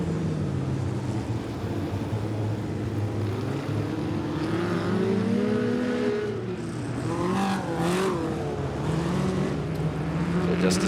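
F2 midget race cars circulate on a track, their engines droning and rising and falling in pitch as they pass, with a commentator talking over the continuous motor noise.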